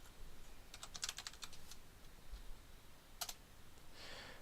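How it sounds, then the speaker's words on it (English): Typing a command on a computer keyboard, quick clusters of light key clicks with a gap, then another short burst, faint and close against a quiet background hiss. "type in this command"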